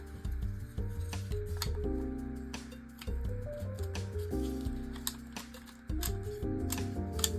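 A cheap airsoft accessory snaps into different positions, making a run of sharp, close mechanical clicks and ratchet-like ticks with short pauses between the movements.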